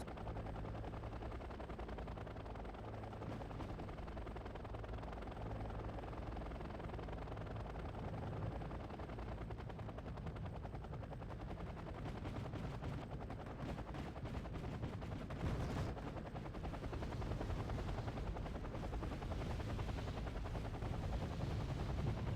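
Helicopters ferrying marines in the war strategy game Wargame Airland Battle give a faint, steady rotor drone, with a cluster of sharp gunfire-like cracks in the latter half.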